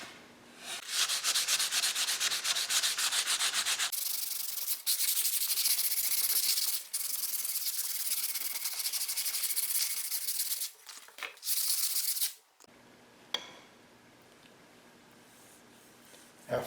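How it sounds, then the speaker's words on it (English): Sandpaper rubbing across a repaired wooden canoe paddle in long, steady back-and-forth strokes, close and continuous with brief pauses between passes, ending in a quieter stretch with a few light scrapes. "After a quick sanding,"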